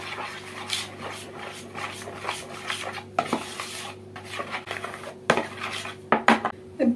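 Tahini being stirred with oil in a bowl: a steady run of scraping, clinking strokes of a spoon against the bowl, close and fairly loud, with a few sharper knocks near the end.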